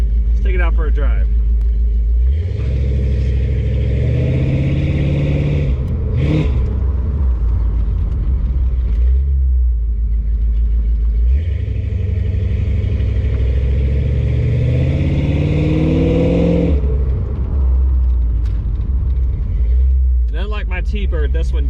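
A 1992 Ford Mustang with an aftermarket exhaust system drives off, its engine rumbling low and revving up in two long pulls with an idle lope between, loud and close under continuous talk.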